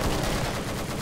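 Rapid pistol fire in the Killing Floor video game, a dense burst of loud shots running continuously with no talk.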